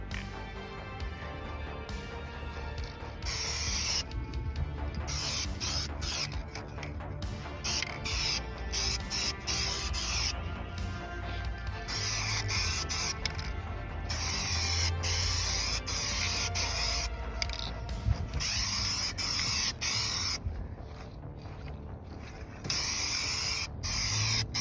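A spray can hisses steadily while a second coat of paint goes onto Corvette interior door trim rings, long loud bursts broken by short pauses and a few mechanical clicks.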